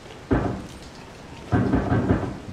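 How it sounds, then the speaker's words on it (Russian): Heavy rain and thunder in the video game Resident Evil 7: two loud rumbling thunder bursts break over a steady hiss of pouring rain, with no talk. "Дождина хлещет."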